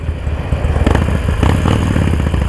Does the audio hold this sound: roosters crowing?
no